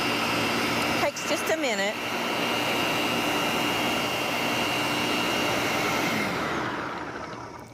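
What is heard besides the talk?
blender pureeing a mixture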